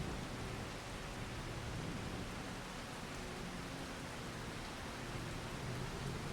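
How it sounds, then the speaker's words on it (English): Steady, dense rain in the video game Farming Simulator 25 hisses evenly throughout, a constant wash of noise with a faint low rumble underneath. "And it has to be fucking raining too."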